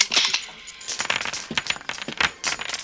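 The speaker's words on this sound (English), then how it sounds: "when he empties it, the sound effect is a gun being unloaded and bullets dropping to the ground" A movie sound effect of a gun being unloaded, with bullets dropping to the ground in a rapid cascade of bright metallic clinks and rattles, close and busy with no pause.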